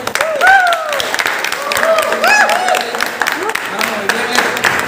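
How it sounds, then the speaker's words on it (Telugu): A crowd at a car inauguration event claps together in a sustained burst of applause, mixed with raised voices and cheers rising over the patter of hands. "టీమ్ హెల్పింగ్ హ్యాండ్కి ఒక్కసారి బిగ్ క్లాప్స్"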